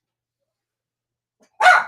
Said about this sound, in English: See, we tried to plan so the dogs won't be barking.